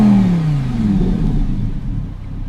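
A 2018 Lamborghini Huracan Performante's 5.2 liter V10 engine drops off from a loud rev, its deep pitch sliding downward over a low rumbling burble, close and loud with no talk.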